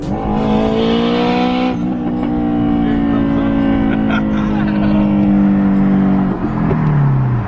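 A turbocharged Honda EP3 and an FK2 Type R meet, with one car's engine revving hard and loud at close range, a steady rising roar that drops and climbs again, with possible tire noise and no speech.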